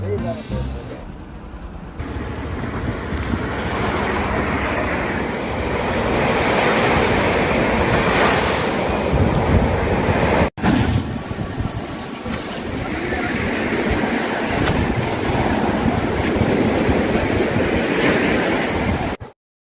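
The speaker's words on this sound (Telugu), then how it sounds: "బేబీ బీచ్ అనేది ఇక్కడ మనం చూడడం జరిగింది మిత్రులారా" Ocean waves at Baby Beach in Kannur, Kerala, crash and wash up the shore in a loud, continuous roar. Strong wind rumbles across the microphone, and the surf swells and eases over time.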